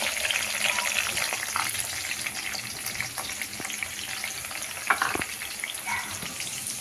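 Chopped onion fries in hot oil with cumin, dried red chilies, curry leaves and green chili, giving a constant bright sizzle with a few sharper crackles and clicks partway through.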